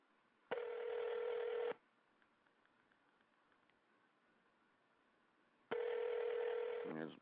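Telephone tones on a radio call-in line, with two long loud dialing or ringing bursts separated by a quiet stretch of faint line noise and no answer.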